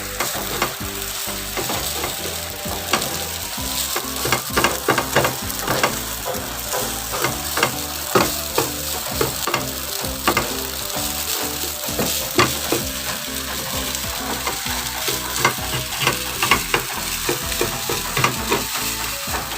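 Rice with soy sauce sizzling steadily in a hot pan, with frequent scraping and clacking stirs of a utensil throughout, close and fairly loud, no talking.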